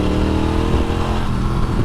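A cheap retro motorbike engine revs hard and close, a loud, continuous rough drone that sounds strained and ragged throughout the short burst.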